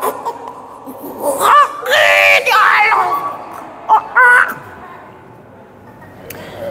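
A preacher's voice mimics a woman screaming, with high, wavering wails in short bursts set against crowd noise at an outdoor Isra Mi'raj gathering at Bundaran HI.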